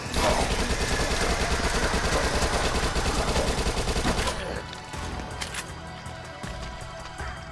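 Rapid SMG fire from the Dead Nation zombie shooter game on PS4, a dense, loud burst of continuous automatic shots for about four seconds before dropping to quieter game noise and scattered effects.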